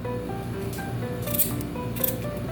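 Raw potatoes are cut for methi aloo, giving soft, faint slicing and squishing sounds in a few brief bursts over a low background hum.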